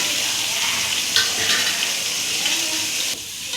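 Onion, garlic, ginger, pepper, cumin and fennel sauté in hot oil with a loud, continuous sizzling hiss and occasional stirring scrapes, the frying sound steady and close.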